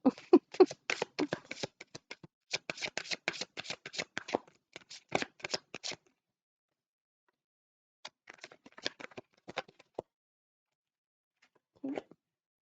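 Tarot cards shuffled and drawn by hand in repeated crisp riffling bursts, a pause, then a shorter shuffling run and a final brief snap of cards being laid down, close and fairly quiet.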